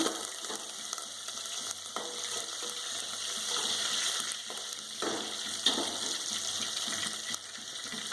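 Steady crackling sizzle of curry leaves frying in hot oil, with a few louder pops and clinks scattered through, no voices.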